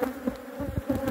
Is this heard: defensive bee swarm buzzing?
yes